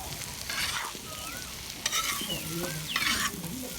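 Egg fry with dal and onion being stirred on a tawa, coriander and garam masala mixed in, with soft scraping strokes and bursts of sizzle. A faint chirping sound occurs in the background.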